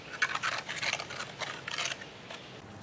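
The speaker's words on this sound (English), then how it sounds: "Let's trim some of the leaves from the flowers that were here before because they've already flowered" Scissors trim old, already-flowered leaves from flowers with a quick series of quiet, crisp snips close by.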